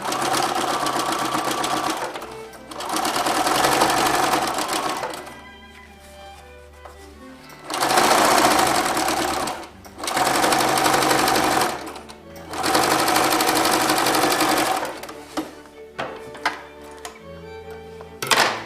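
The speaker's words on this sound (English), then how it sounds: "then I just sew it on top with the sewing machine again" A sewing machine stitches fabric for a zippered pouch in several long bursts with brief pauses between, a steady mechanical whir close up.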